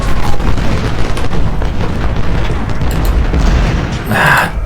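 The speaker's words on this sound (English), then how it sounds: "They shell the poor skirmishers" Artillery shelling rumbles through an Ultimate General: Civil War battle at Gettysburg, a dense, continuous low roar of booms and distant blasts without clear gaps.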